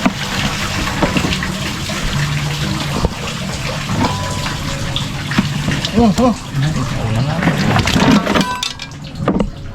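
Water splashes and pours continuously close by, with voices talking over the watery sloshing.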